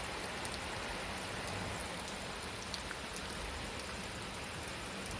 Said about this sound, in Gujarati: ધીમી તારે આવે વરસાદ, ઝાઝો નહીં આવતો